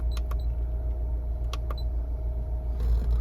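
Inside a Mini Cooper S fitted with a LUFI X1 gauge, a low, steady engine and road rumble fills the cabin, with a few brief electronic clicks and chirps over it.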